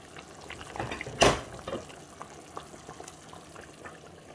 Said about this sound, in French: Je vais venir maintenant renverser mon riz.